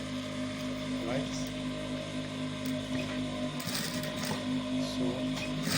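A sewing machine top stitches a student school uniform, its motor running in a steady, continuous whir with a constant hum, while a person talks over it.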